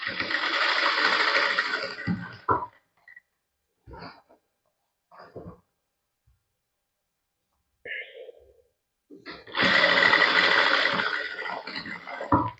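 Sewing machine stitching a fall onto a stone-work saree, running in two steady bursts of loud, even whirring at the start and end, with a few soft handling sounds and brief quiet gaps between.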